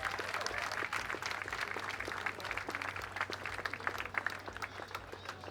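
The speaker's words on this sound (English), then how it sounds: "One more round of applause for my main man, Britton, everybody." Audience at a Hoboken innovation festival keynote gives a faint, distant round of applause, scattered claps blending into a steady patter beneath a low hum.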